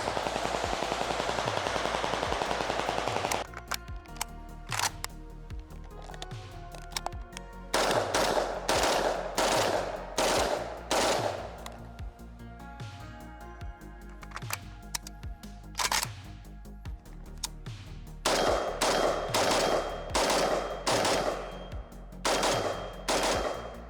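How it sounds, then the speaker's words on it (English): SLR 106 and SAM 5 AK-pattern rifles fire repeated rounds outdoors, sharp loud cracks in quick strings and separate shots with short pauses, each echoing briefly. "we're going to pop some rounds off on each"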